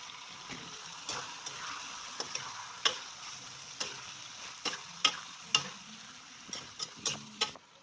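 Chicken liver and chili fry in a pan, giving a steady close sizzle punctuated by irregular sharp ticks and spatter pops, with no talking.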